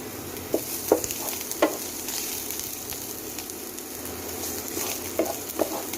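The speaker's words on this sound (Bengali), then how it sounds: "এবার আমি লঙ্কা কুচি দিয়ে দেব, এবার আমি আদা কুচি দিয়ে দেব" Chopped green chili and ginger frying in a pan, a soft continuous sizzle with a few light taps and scrapes of stirring scattered through, close-up and fairly quiet, no voices.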